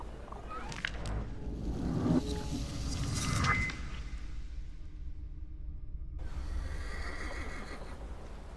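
A horse whinnies loudly in The Thaumaturge, a drawn-out neigh over a steady ambient game backdrop, followed by quieter game sounds and soft background tones.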